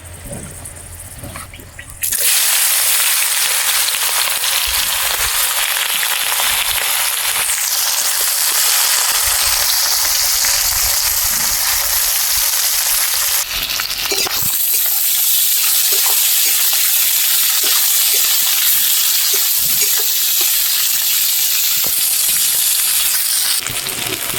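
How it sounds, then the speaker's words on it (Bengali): Chopped onions drop into hot oil with dry chilli and cinnamon for a goat curry, bursting into a loud, continuous sizzle after a quieter opening and crackling steadily throughout. "এবারে আগে থেকেই কেটে রাখা পেঁয়াজ দিয়ে দেব"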